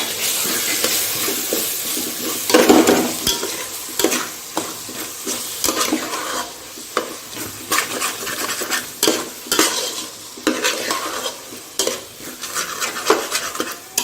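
Turmeric, biryani masala and garam masala being stirred into a sizzling pan, with repeated scraping and clinking of a spoon against the metal over a steady fry, close up.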